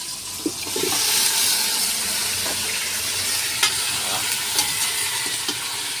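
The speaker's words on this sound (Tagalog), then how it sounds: "So guys, igisa natin yung karne." Pork pieces sautéing in a pan over a wood-fired stove, a steady broad sizzle with a few light clinks and stirring scrapes, close and fairly loud, no talking.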